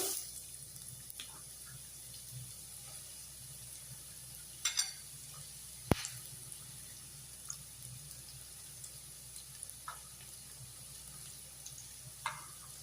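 Chopped onion sautés in coconut oil in a pan for an egg masala, a soft continuous frying hiss with occasional light clicks and scrapes of stirring, fairly faint and without speech.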